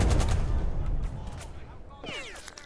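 Rumbling gunfire and explosions from the WWII tactics game Burden of Command boom loudly at first and then fade, followed by a few sharper cracks and whistling ricochets near the end.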